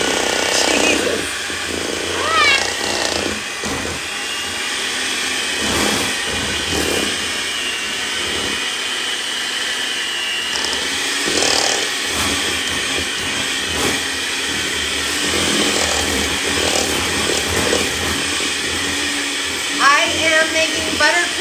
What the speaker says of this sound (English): Making buttercream with a hand mixer because I enjoy torturing myself